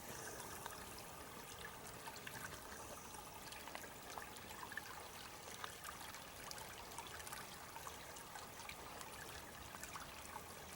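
Creek water trickling steadily over and around ice, branches and leaves, a continuous broad rushing wash with no pauses, moderately close and no voices.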